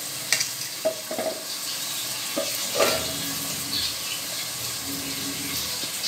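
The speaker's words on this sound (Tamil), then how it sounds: "தக்காளி, அப்படியே வதங்கட்டோங்க நல்லா" Tomatoes softening in hot oil in a pan for a fish kuzhambu with small onions, a steady low sizzle with a few soft clinks and scrapes of stirring, fairly quiet throughout with no talking.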